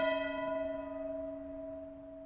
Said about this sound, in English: This is a meta sound that has a church bell sample in it.